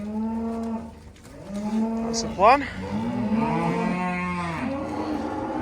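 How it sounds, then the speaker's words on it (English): Cattle being moved on a farm, several cows mooing in long, loud, close calls one after another, with a brief spoken phrase mid-way. "So we're just moving cattle about now"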